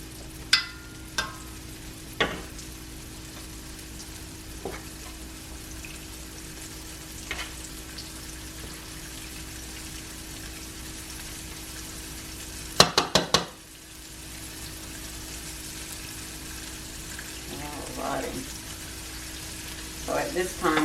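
Flour-dredged cubed pork steak fries in oil in a pan, a soft, steady sizzle close by with occasional clicks and clanks of utensils against the pan and brief bursts of talking.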